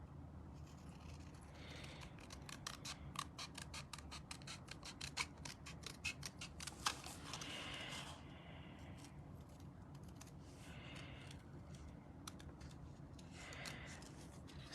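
Scissors snip through card stock by hand, a long run of quick, crisp cuts close to the mic with short pauses between bursts, over a low steady room hum.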